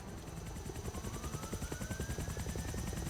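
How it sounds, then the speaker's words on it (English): A helicopter in the video game Halo CE, modded, makes a steady rhythmic rotor thump with a rising whine, loud and continuous with no talk. "We can use that helicopter to find the other lifeboats."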